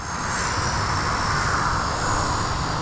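V120D02S-Pro remote-controlled helicopter flying 3D rolls and loops, a steady high-pitched motor and rotor whine, loud and continuous throughout without any talk.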